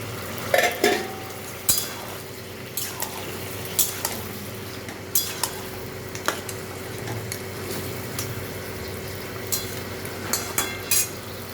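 Fried fish heads tumbled into a pot of bottle gourd curry and stirred, giving scattered clinks and scrapes of a utensil against the pot over a low, steady simmer, close and without talk.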